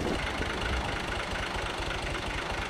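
A farm tractor engine idling, a steady low rumbling throb with a regular pulsing beat, close and continuous throughout.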